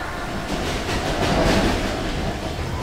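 A train rumbles past in a video game, a steady rolling clatter of rail cars that swells slightly around the middle and holds at a constant, fairly loud level with no voices.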